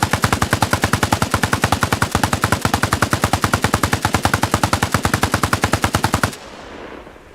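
Sustained automatic gunfire from the Arma Reforger military shooter, a loud, rapid and steady burst of evenly spaced shots lasting about six seconds before cutting off to a faint residual rumble.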